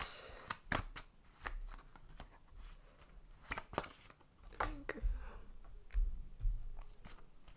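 Tarot cards being shuffled and drawn during a Cancer reading: soft papery riffles and sharp card snaps and taps at irregular intervals, close and fairly quiet, with no talking.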